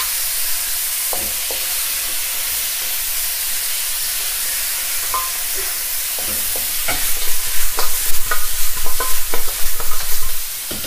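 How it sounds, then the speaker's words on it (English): Spare ribs sizzle in a hot pan with a steady hiss, then a utensil stirs them in a quick run of scraping clatters near the end. "Fry them for a few minutes"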